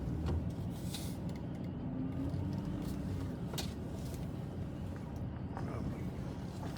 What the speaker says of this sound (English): Make sure I don't drive into one of the other vehicles as I back up.